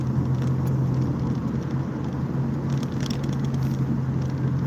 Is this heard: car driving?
yes